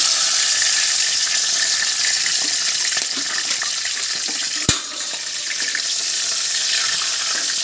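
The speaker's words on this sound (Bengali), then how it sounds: "শুকনো লঙ্কা আর জিরে একসঙ্গে এখানে তেলের উপরে ফোড়ন দিয়ে দেব" Dried red chillies, cumin seeds, cinnamon, cloves, cardamom and a bay leaf fry in hot oil, a loud continuous close sizzle with a single sharp clink partway through and no talk.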